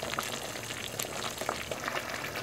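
A pot of ogbono soup with dried vegetables bubbles steadily at close range, a dense continuous simmer of small pops and liquid burbles with no voices.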